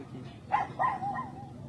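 A wounded, bleeding dog that was shot gives a few faint, close yelps and whimpering barks in quick succession after a brief quiet moment.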